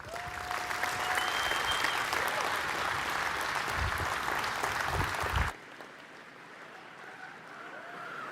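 A large audience applauds as the CEO and founder is introduced at a hydrogen-electric semi-truck unveiling, with dense sustained clapping that ends abruptly, leaving quiet room tone.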